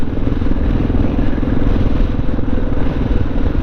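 A motorcycle with a SuperTrapp exhaust runs loud and close, a dense steady engine rumble with a rough, pulsing, clattery texture throughout.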